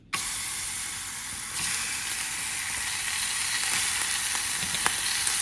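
Sliced lunch-meat ham sizzles steadily in a hot pan as it warms for a toasted ham and cheese, a loud, continuous frying hiss that swells slightly partway through, with faint pops near the end.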